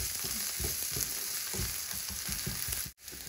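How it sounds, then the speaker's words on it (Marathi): An onion and spice mixture with crushed coriander and cumin sizzles steadily in a pan over a medium flame. A spoon stirs it in rhythmic scrapes, and there is a brief cutoff near the end. "आता याला परत आपल्याला असं 5 मिनिट छान मीडियम फ्लेमवरती परतून घ्यायचं आहे"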